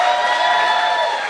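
Comedy club audience in Spokane clapping and cheering, a dense, bright wash of applause filling the room, loud and sustained throughout the short burst.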